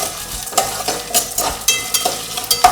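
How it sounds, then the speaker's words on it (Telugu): Dry red chillies fry in oil in a pan, with a steady sizzle and the repeated scrape and clink of a stirring spoon against the metal, close and fairly loud throughout. "ఇక్కడ వేగాయి. మనం ఎండుమిరపకాయలు వేసుకున్నాం."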